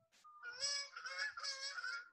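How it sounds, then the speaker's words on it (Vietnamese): A goose honks loudly and close by, giving a rapid series of harsh, nasal calls that run together for about two seconds. "Con ngỗng."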